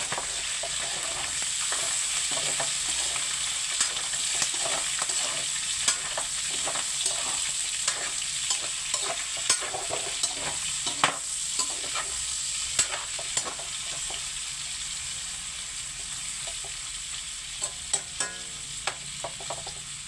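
Meat frying in a pan for adobong kangkong, a steady loud sizzle with scattered scraping stir strokes and spoon clicks throughout, no talking.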